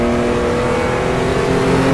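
A racing car engine in the RACE 07 simulation game (GRT Evo class, hill-climb track) drones steadily at high revs, loud and continuous with a sustained harmonic whine and no voices.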